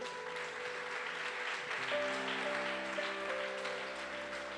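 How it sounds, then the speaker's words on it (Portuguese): A church congregation claps together in a dense, steady burst of applause while sustained organ or keyboard chords ring underneath. "Dá um aplauso forte ao Senhor."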